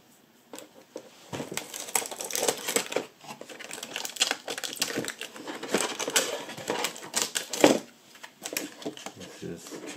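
Scissors cut open crinkly plastic packaging around computer parts, an AMD processor and Kingston HyperX DDR2 RAM, with irregular snips, rustling and crumpling close up for several seconds.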